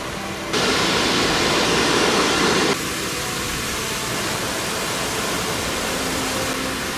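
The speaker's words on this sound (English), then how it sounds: "Next, we cross this waterfall." Steady broadband roar of a waterfall being crossed on a rocky trail near Hsipaw, loud and close throughout, briefly swelling louder for the first few seconds before settling to a constant rush.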